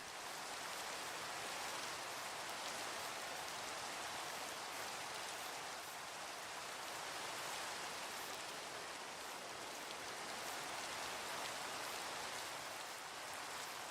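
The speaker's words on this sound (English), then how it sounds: "Rain, rain, go away." Steady rain falls in a Minecraft game world, an even wash of pattering noise that stays constant throughout with no talking.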